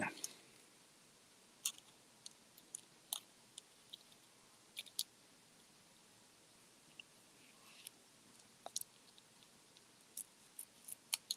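Small Gerber Dime multitool scissors snip through material outdoors, giving a scattered series of faint, sharp clicks and snips at irregular intervals over a quiet background.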